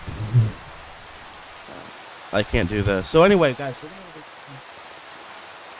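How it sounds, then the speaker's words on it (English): Hail in the Minecraft video game makes a soft, steady hiss of pattering weather that runs throughout, faint beneath a few spoken lines from players. "Oh, hail's coming down."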